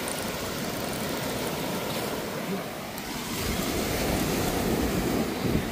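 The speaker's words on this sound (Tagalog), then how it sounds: "Test natin guys habang malakas pang alon." Strong sea waves surge and wash onto a shore during a fishing outing, a steady loud broadband roar with wind buffeting the microphone, swelling slightly louder toward the end, with no voices heard.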